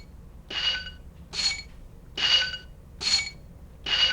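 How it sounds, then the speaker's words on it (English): Five evenly spaced swelling tones from an Ensoniq Mirage sampler playing sampled slinky and rubbed wine glass sounds, each a bright, ringing, metallic burst about a second long, moderately loud with no talking. "This is the sound of a slinky on the bottom and someone doing this on a wine glass on the top."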